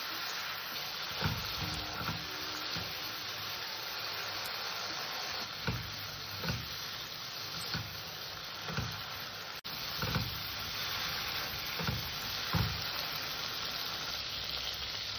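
Ground spices with water sizzle steadily in a pan for rajma, a soft continuous frying hiss broken by periodic scraping stirs at a slow, regular rhythm.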